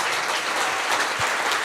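A church congregation applauds, thick continuous clapping from many hands, loud and close, filling the whole short stretch.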